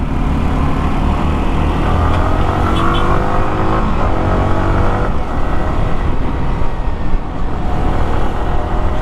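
A Yamaha R15 V4 motorcycle engine drones steadily while being ridden, a loud, continuous hum with faint rises and falls in pitch and no voices.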